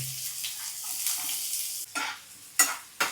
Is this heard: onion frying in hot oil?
yes